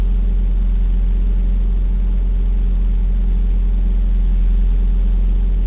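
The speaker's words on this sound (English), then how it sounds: "the idle's still actually going down a little bit more" A 1991 Toyota 22RE engine with an idle fault, running at a steady low idle as the revs sag slightly, with a constant close drone and no talking.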